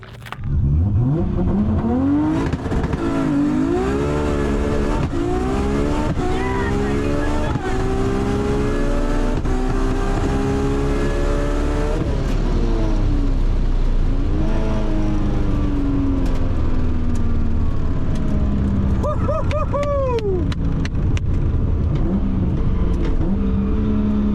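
A manual Nissan R32 GT-R street car launches and accelerates hard down a drag strip, its engine loud and near, climbing through repeated rising gear pulls with brief shift breaks, tire noise near the end, and faint crowd voices underneath.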